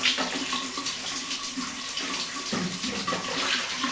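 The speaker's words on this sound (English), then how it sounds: "open the water faucet" Water pours steadily from an open faucet, a continuous close splashing rush that holds at an even level throughout with no voices.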